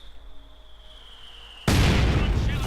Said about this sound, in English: Bit of mortar rounds going in.